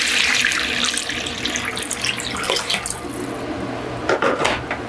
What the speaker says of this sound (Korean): 무조건 엄청 차가운 물로 씻어야 돼요